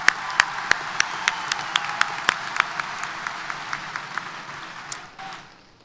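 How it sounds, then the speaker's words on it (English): Audience applause at a Texas A&M University-Corpus Christi spring commencement ceremony, a steady wash of many hands clapping with sharp individual claps standing out, gradually thinning and fading out near the end. "let's give another round of applause to Jessica"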